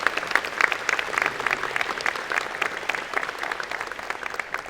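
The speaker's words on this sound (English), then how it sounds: "Please give him a big round of applause." Sustained applause from a large audience at a university engineering and computer science graduate convocation ceremony, dense steady clapping that holds at an even level throughout.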